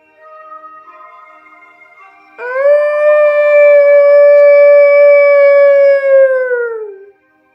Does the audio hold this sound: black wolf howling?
yes